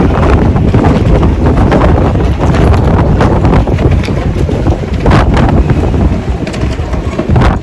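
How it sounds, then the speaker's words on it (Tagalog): Strong wind roars steadily into the microphone, a loud, continuous rushing with gusty buffeting throughout and no voices. "Kaya pala may lumulusok na hangin."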